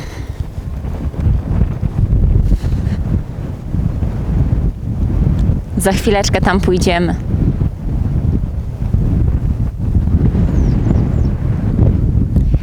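Strong wind roars and buffets the microphone throughout, a heavy broadband rush with someone speaking briefly over it.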